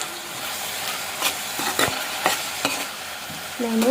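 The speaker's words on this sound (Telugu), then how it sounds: "పసుపు వేసుకున్నాక ఒకసారి కలుపుకున్నామండి" Okra and tomato curry with turmeric is stirred in a pan over a low sizzle, with several distinct spoon scrapes and clinks spaced across the moment.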